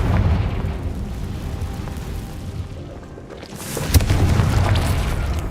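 A Confringo spell explodes in the game Hogwarts Legacy. A sharp boom lands almost four seconds in over a steady rumbling game soundscape, followed by a burst of crackling debris.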